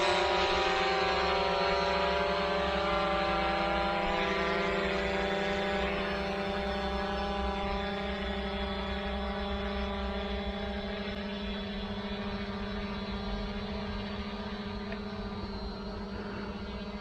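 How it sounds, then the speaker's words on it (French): A FIMI X8SE drone flies and climbs nearby, its propellers producing a steady, even whine with layered tonal hum that holds constant and fades only slightly over the whole stretch, with no talk. "Le drone monte en ellipse."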